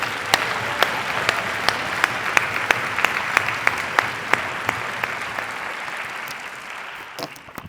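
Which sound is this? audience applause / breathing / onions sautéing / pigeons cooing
audience applause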